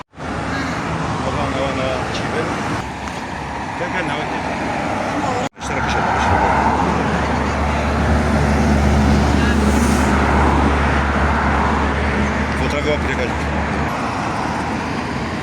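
Steady road traffic at a busy, dangerous intersection in Diyarbakır, with a continuous engine rumble and vehicles passing close by throughout. A brief dropout cuts in near the middle, and voices can be heard talking faintly under the noise.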